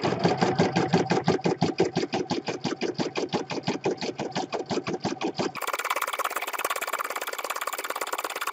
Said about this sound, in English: the next process that I'll set it going on is the tack down stitch. So this is just a zigzag stitch that's going to catch the edge of the fabric